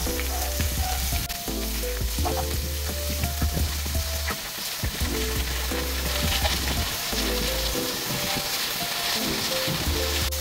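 Pork belly liempo fries in a pan with a steady, dense sizzle that runs throughout, punctuated by scattered pops and crackles; no voices are present.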